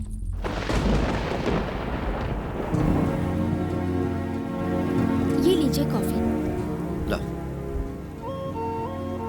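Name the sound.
rain falling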